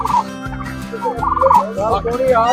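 Turkeys gobble loudly and repeatedly at a fair-ground poultry display, several calls overlapping in rapid warbling bursts close by, with no talking.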